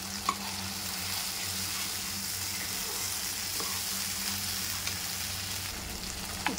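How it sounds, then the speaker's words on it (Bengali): Poppy seeds and cashew nuts frying in oil in a pan, giving a steady, even sizzle with a few faint clicks of stirring, heard alone and fairly quiet. "এবার আমি পোস্ত আর কাজু বাদামটা দিয়ে দিচ্ছি।"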